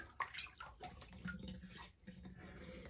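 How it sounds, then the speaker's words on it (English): Water splashing from a sink as a face is wetted before a wet shave, a quiet run of irregular splashes and trickles with no talk. "So let me wet the face."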